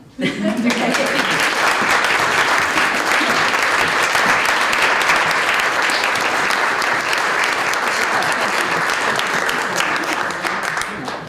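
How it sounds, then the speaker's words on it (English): A lunch audience breaks into sustained applause, dense clapping at a steady level for about ten seconds before tapering slightly at the end. "Let's give her a round of applause for sharing that story."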